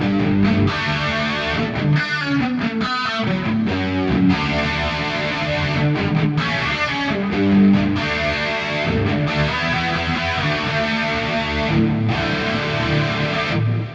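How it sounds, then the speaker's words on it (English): Electric guitar through an Ampero II Stomp with a dual pitch-shifter detune in the wet path, chasing 90s Van Halen tones: thick, distorted, chorus-like riffing played continuously and loud with no talk. "So I've got a dual detune running here"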